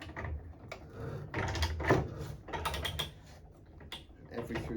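A threading machine cutting threads into low carbon steel with oil added, giving irregular clicking, ratcheting mechanical noise in bursts, close and moderately loud, with no voices.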